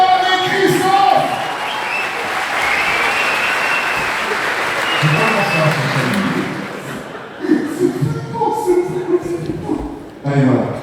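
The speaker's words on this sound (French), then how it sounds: "applaudissements pour Chanel et Christophe" A crowded FC Sion evening party applauds Chanel and Christophe with loud, dense clapping and some cheering for several seconds before it thins out and voices take over near the end.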